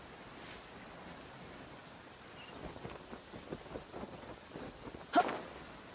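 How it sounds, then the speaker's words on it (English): Rain falls steadily in the fantasy video game Genshin Impact as a soft, continuous hiss, with a brief, sharper splash or crack near the end. "It always rains when I go on an adventure."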